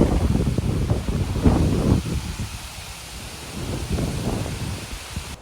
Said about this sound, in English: The wind is still going.